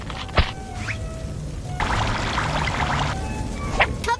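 Water pours briefly onto a towel in a Babybus children's game, a soft cartoonish splashing stream in the middle, framed by small clicks and chimes.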